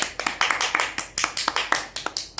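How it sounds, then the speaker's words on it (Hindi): Close, crisp hand clapping in a steady quick rhythm, about a dozen sharp claps alone with no other sound. "तालियां बजाओ गाइस"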